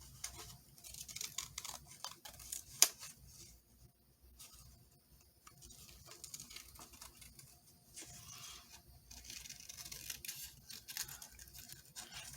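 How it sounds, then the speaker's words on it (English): Scissors cutting around a paper fairy figure for a journal: quiet, irregular snips and papery rustles with brief pauses, close up, and one sharper click partway through. "I'm going to cut around her"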